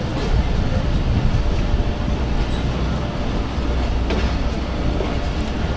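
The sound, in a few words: Khyber Mail passenger train passing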